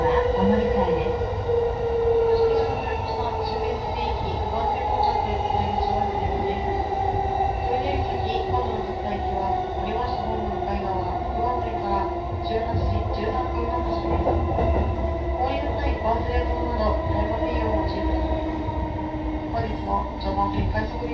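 A rapid train on a Japanese railway line rumbles continuously, with a steady motor whine and rolling wheel noise throughout, heard close from inside the train.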